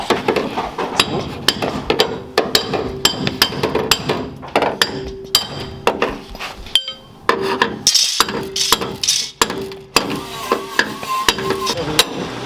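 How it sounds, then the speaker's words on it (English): A hammer taps a Ford Galaxie body panel near the rocker while a body line is shaped. Sharp, irregular metallic knocks come close and steady, with small clinks between strikes. "A hammer. Italian hammer."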